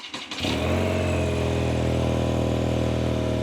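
A BMW R12 G/S boxer-twin motorcycle engine starts up and settles into a loud, steady idle with an even low rumble, heard close by.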